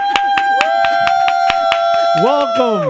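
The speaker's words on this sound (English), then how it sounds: "Where's the hand clap?" Sharp hand claps repeat at a steady beat in a hip hop podcast intro, loud and close over sustained musical tones, with a voice sliding in near the end.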